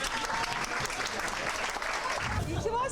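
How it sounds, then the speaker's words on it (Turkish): Continuous clapping from a crew at an iftar dinner for a TV show, dense applause with voices talking over it. "Ali'ye kocaman alkış."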